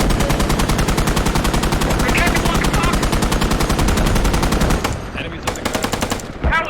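Rapid, sustained automatic gunfire from the military shooter game Squad rattles loud and close for several seconds, then breaks into a few sparse shots, with faint voices underneath.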